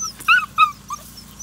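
Standard poodle puppies outdoors in a kennel give a few short, high whimpers and yips, close by, with one rising cry after another in quick succession over a low background hum.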